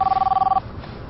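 A mobile phone rings in a short, fast electronic trill, loud and close, cutting off after about half a second and leaving faint room noise.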